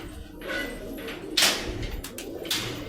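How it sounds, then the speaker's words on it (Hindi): A Kashni Chandna pigeon coos close by, giving a few soft, throaty calls spread across a short stretch, with light knocks and rustling between them. "काशनी चांदना कबूतर है"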